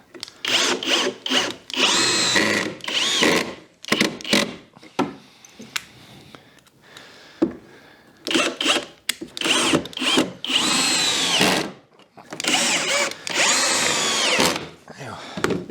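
A power drill drives screws into a wooden workbench in several loud whirring bursts of a second or two each, separated by short pauses, with brief talking in between.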